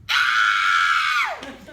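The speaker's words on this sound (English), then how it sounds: "let's try a practice scream on 3" An audience member at a horror makeup comedy show lets out a single loud, sustained scream that slides down in pitch at the end.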